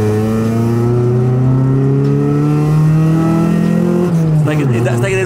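A Honda Civic EJ9 engine revs hard and close, its pitch climbing steadily over several seconds before dropping sharply near the end as revs fall, with a rough exhaust tone.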